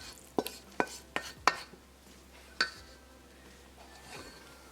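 Shrimp gemelli pasta in marinara sauce is dished from a pan into a serving bowl, and a utensil gives about five sharp clinks and scrapes against the metal in the first three seconds. Soft, quiet scraping follows.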